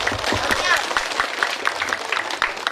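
Audience at a humorous Sundanese Islamic sermon in West Java clapping, short bursts of applause mixed with crowd noise and a voice talking over it.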